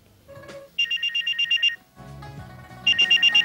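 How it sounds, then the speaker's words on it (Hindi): A landline telephone rings in two close, loud bursts of rapid trilling pulses with a short quiet gap between them, heard alone without talk. "ये वो आवाज है जिसे सुनकर आप हर काम छोड़कर दौड़ जाते होंगे। हम बात कर रहे हैं आपके फोन की।"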